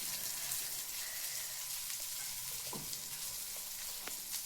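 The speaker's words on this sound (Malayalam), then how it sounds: "ചിക്കൻ പൊരിക്കുമ്പോൾ നമ്മൾ ശ്രദ്ധിക്കേണ്ട കാര്യം, ചിക്കൻ ചെറിയ പീസാക്കി ഇടണം. നല്ല വെളിച്ചെണ്ണയിൽ പൊരിച്ചെടുക്കണം." Chicken cut into small pieces sizzles steadily in coconut oil in a pan, with occasional clinks and scrapes as it is stirred; continuous close frying noise with no talking.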